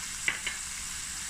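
Mussels stir-fry in a pan with turmeric and fish masala. There is a faint, quiet sizzle with two short crackling bursts near the start.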